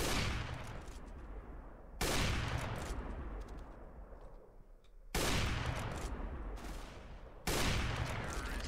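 Gunfire in the Roblox game Counter Blox comes as three loud bursts that each fade into a long rumbling tail, set roughly two to three seconds apart, with no talking.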